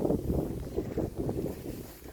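Gusty wind blows outdoors at a farm in Canada, a low rumbling buffet across the microphone that swells and eases unevenly throughout.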